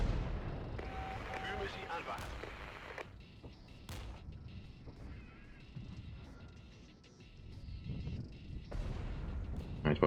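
Artillery barrage falling on woods in the strategy video game Regiments, with a few sharp distant booms and rumbling impacts over a low background of battle noise, moderately faint.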